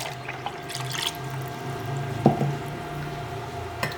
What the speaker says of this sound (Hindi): उसके बाद आपने इसमें 1 मग पानी डालना है।